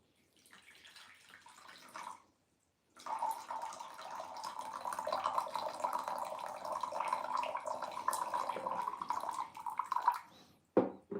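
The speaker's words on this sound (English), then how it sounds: "we're gonna go ahead and pour some tea" Loose leaf gyokuro tea pours into a clear bowl as a steady, close stream of liquid running for several seconds, with a short gap before it and a few drips at the end.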